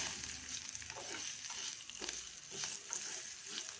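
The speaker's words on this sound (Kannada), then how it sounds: "ತುಪ್ಪದಲ್ಲಿ ಸ್ವಲ್ಪ ಘಮ ಬರೋ ತನಕ ಹುರ್ಕೊಳ್ತೀನಿ" Steady crackling sizzle of vermicelli roasting in hot ghee, with occasional stirring scrapes, close and fairly quiet, no voices.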